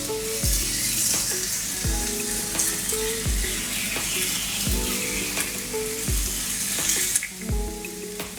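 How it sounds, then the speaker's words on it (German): Slices of chicken breast frying in a pan give a steady loud sizzle, with a spatula repeatedly scraping and knocking against the pan in a regular rhythm. "Und brate dann die Hähnchenbrustscheiben an."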